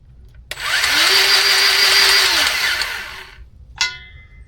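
A power grease gun whirs loudly on a driveshaft grease fitting, one sustained motor burst of about three seconds with a rising then falling pitch, followed by a short sharp click.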